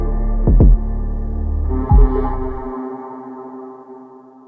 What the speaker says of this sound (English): I will bust out my impact driver and get these 2 tools out these 2 screws out right here